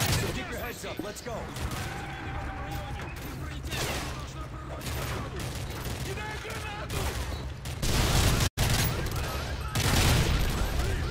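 Sustained gunfire in a Call of Duty MW3 campaign battle, rapid automatic bursts and mechanical clatter layered over shouted squad voices giving orders.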